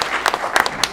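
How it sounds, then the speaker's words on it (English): A short burst of dense clapping from an audience at a labor speakers club event in Chicago, loud and close, filling the whole moment. "Give another round of applause for all of us."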